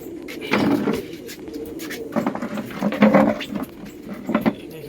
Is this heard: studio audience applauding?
no